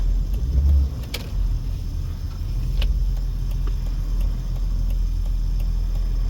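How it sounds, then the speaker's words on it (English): Road traffic near the Mason Avenue intersection by McNeil Estates in Las Vegas, with cars passing in a steady low rumble and a couple of brief sharp transients, no talking. "Suddenly, out of nowhere, came all this traffic."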